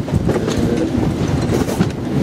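A train runs along a railway track nearby, a steady loud rumble with rhythmic clattering of wheels throughout.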